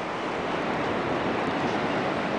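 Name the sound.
ocean waves on a beach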